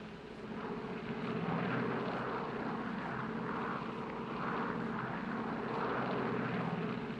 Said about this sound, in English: Los Angeles Tower, this flight 649,